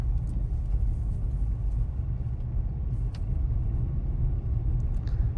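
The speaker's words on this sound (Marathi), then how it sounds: "माझा भाऊ शिकतोय गाडी" A steady low engine rumble of a car being driven by a learner driver, continuous and close, with faint road noise and no voices.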